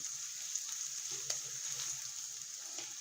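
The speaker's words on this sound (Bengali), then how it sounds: "ওই একই তেলের ভেতরে কিছু পেঁয়াজ কুচি দিয়ে দিয়েছি" Chopped onions sizzle in oil left over from frying eggs, a steady close hiss with occasional small pops throughout and no talking.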